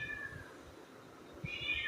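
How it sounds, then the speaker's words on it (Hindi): A pet cat meows at home early in the morning while waiting to be fed, a high mewing tone early on and a second one near the end, close by over light room noise. "ये हमारी बिल्ली है।"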